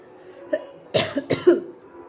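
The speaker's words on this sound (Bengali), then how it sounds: "কাশি হচ্ছে" A person with a cold coughs in a short cluster of harsh, close coughs after a single throat sound, with quiet around them.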